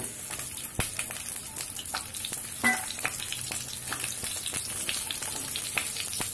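Pointed gourd (parwal) goes into oil heated on a high flame, setting off a continuous, close, crackling sizzle of frying with a few sharper pops and spatters and no voices.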